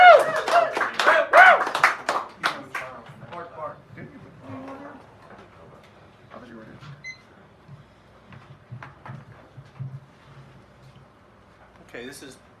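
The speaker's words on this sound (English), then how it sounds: "give him a round of applause out there" An audience claps and applauds loudly for a performer at a live show, a dense burst of hand claps that fades out after a few seconds, followed by quieter murmuring and a single voice.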